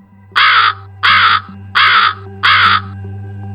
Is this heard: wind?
no